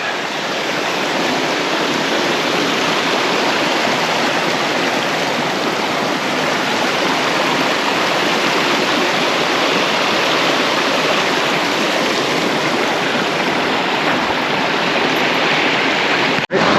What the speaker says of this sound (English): Crossing Holiday Creek.